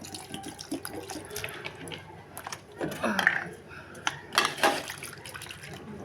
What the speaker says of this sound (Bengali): এবার এগুলো একটু ঠান্ডা জল দিয়ে দেবো।